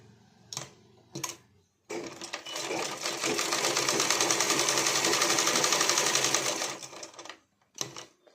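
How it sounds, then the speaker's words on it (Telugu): A sewing machine stitches pleats into a blouse, starting with a couple of short bursts, then running in one steady, rapid whirring stretch of about five seconds before stopping, followed by a few brief taps. "ఈ ప్లేట్లు కుడుతున్నా ఫస్ట్"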